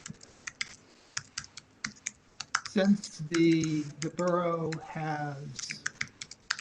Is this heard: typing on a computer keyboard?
yes